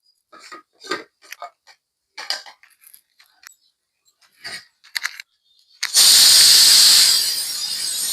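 Scattered kitchen clatter and scraping, then a loud, sustained hissing pressure-cooker whistle bursts in and keeps going to the end.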